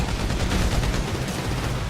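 Rapid gunfire from Grand Theft Auto V fills the moment as a dense, continuous automatic burst, loud and close, with no talk over it.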